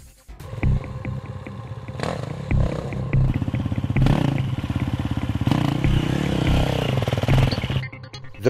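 An enduro motorcycle engine revving in short throttle blips with clutch work, a pulsing, gritty rasp that surges and eases repeatedly at close range.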